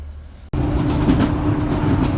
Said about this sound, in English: Right, we have just got on the train at Tyndrum.